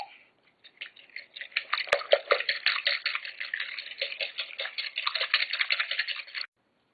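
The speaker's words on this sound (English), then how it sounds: "Okay, so then you whisk it." Egg custard mixture for caramel flan whisked in a bowl: a fast, rhythmic series of close metallic ticks and clicks, continuous for several seconds and then stopping abruptly.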